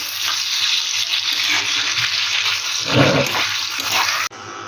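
Potatoes frying in a pan at home, a steady loud sizzle with brief stirring or clattering near the middle, then a sudden cut as the sound drops away near the end.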